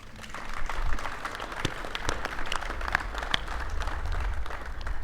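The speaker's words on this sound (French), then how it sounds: "Cher coach Aliou, je voudrais qu'on t'applaudisse très fort." An audience at a ceremony for the national football team before the 2019 Africa Cup of Nations applauds steadily, a dense crowd clapping with occasional sharper claps standing out, moderately loud for several seconds.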